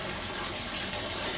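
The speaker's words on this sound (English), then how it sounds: "I'm just dumping all of this bag water into this tub." Bag water pouring steadily into an outdoor pond tub, a continuous close splashing gush with no pauses.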